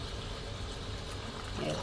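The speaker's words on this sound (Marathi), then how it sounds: "एक तांब्या पाणी टाकून घेतले" Water tipped from a small tumbler into a pot of mung dal being cooked, a soft steady liquid pour with low splashing that lasts the whole stretch, close by and moderately quiet.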